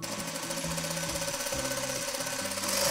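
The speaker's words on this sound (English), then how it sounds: "we'll just sew it together" A sewing machine stitches improv log cabin quilt pieces together, its needle whirring in a loud, close, rapid hum that slows and speeds up in short runs.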